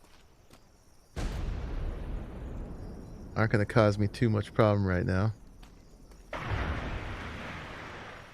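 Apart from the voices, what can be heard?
ship cannons firing in Atlas video game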